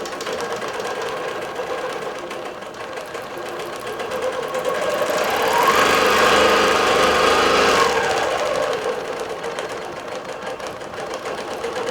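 A digital long-arm quilting machine stitches across a quilt, a steady close mechanical hum that swells as it speeds up mid-pass and then settles again, with no talk.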